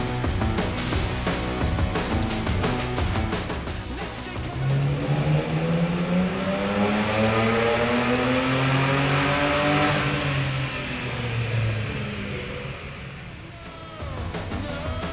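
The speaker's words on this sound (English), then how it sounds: "Kicking off the naturally aspirated 6 class was John's Barra swapped XF Falcon" A naturally aspirated, Barra-swapped Ford XF Falcon six-cylinder screams on a dyno at Summernats, revving up in a long rising pull to a high-pitched wail, then backing off and crackling.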